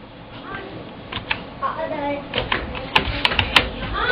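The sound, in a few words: typing on a computer keyboard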